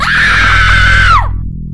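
A woman screams in terror in an animated Hindi horror story, one loud sustained shriek that holds steady, then bends downward and cuts off abruptly.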